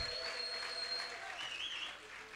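A congregation applauds during a church service, a steady wash of many hands clapping at moderate distance that tapers slightly toward the end.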